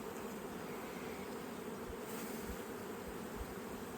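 Honey bees swarm around an open hive during an inspection of brood boxes and cross comb, a dense, steady buzzing that fills the whole stretch at close range without any voices.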